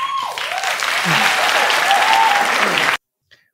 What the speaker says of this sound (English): What are they clapping for?